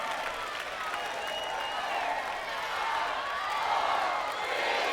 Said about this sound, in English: Crowd counting down.